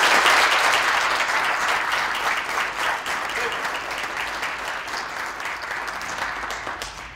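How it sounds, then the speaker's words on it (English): An outdoor Veterans Day ceremony crowd breaks into applause, a full burst of clapping that slowly thins and fades over several seconds. "Let's give these all a round of applause."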